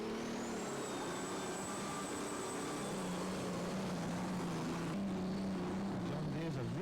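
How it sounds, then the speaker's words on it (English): A John Deere pulling tractor roars at full power during a 1997 European tractor pulling event in Sottrum, Germany, a loud, sustained engine drone with a high whine climbing at the start and holding steady. "Jan Bergraaf, going to give it a good try with his John Deere"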